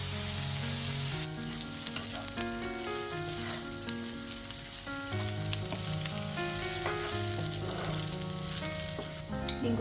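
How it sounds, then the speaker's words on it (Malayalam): Onions browning in a hot pan, a steady close sizzle and crackle with occasional stirring clicks, running continuously under music. "നല്ലപോലെ മൂപ്പിച്ചെടുക്കണം ഉള്ളി."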